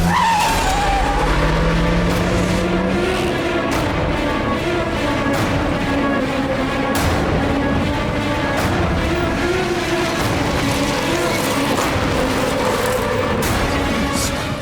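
A getaway car peels off in a crime-drama chase, tires skidding and screeching over a loud, continuous engine roar that fills the whole stretch without any talk.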